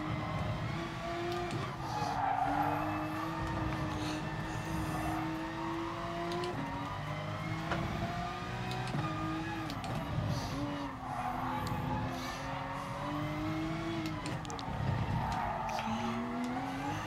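Porsche 911 RSR race car in Gran Turismo Sport on the Barcelona circuit, its engine droning and shifting pitch up and down while the rear tires squeal and skid through corners, steady and close throughout.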